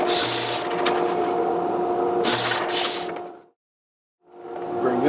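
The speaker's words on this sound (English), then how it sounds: "I do use this disc sander for the final kind of press fit." A disc sander hums steadily while pressing and sanding a Les Paul guitar neck, with two loud bursts of gritty abrasive contact, then a brief dead silence before the motor hum returns, up close with no talk.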